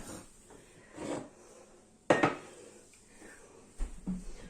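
A few clanks and clinks of a saucepan being handled and set down on the stove for butter, with quiet pauses between the knocks.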